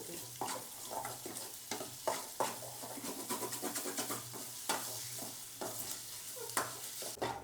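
Fresh turmeric frying in ghee in a pan, a steady sizzle broken by repeated scraping stirs of a spoon, close and continuous throughout with no talking.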